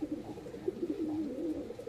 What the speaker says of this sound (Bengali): খুব সুন্দর কোয়ালিটি কালার ওড়ার লাইনে হাই ফায়ারের কবুতর।